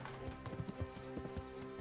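Horse hooves clip-clop at an even walking pace in a video game, a steady rhythmic patter over a low tonal hum.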